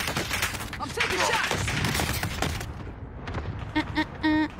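Video game gunfire crackles in rapid bursts of shots at moderate level, then thins out into scattered game sounds and tones.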